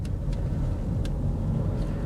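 Steady interior drone of a Peugeot 3008 cruising in second gear, a constant low engine and road rumble with faint ticks, no talk.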